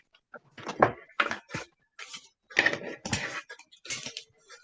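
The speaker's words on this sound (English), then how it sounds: "let me shuffle some tarot cards" A deck of tarot cards being shuffled by hand close to the microphone, a series of quick papery riffles and slaps in irregular bursts with short pauses between.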